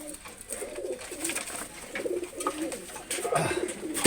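A Prince Kamagar pigeon, a Pakistani fancy breed, gives soft, repeated cooing calls close by, several short throaty phrases over a quiet background hum.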